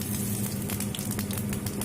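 Whole cumin seeds sizzle in hot oil in a pan while a rohu fish curry with potatoes and tomatoes is being cooked, a steady, close, crackling hiss heard alone.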